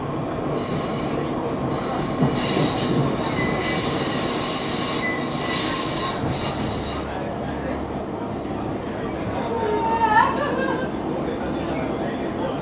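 A passenger train running toward Salford Crescent station: steady rolling rumble of wheels on rail with drawn-out wheel squeal, loud and close throughout, with faint chatter in the background.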